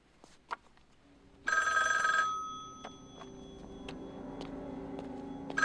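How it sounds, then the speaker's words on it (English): Telephone bell ringing in a scene from The Shining, a bright mechanical ring burst rising out of a quiet room with scattered ticks and clicks, then lingering faintly before a second brief ring at the end. "we can hear a ringing noise on the mirrored version"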